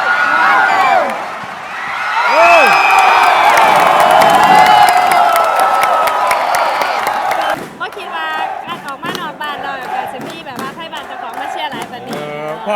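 A crowd at a local event in Rayong cheers and shouts loudly for several seconds, then the noise thins into scattered voices and close talking.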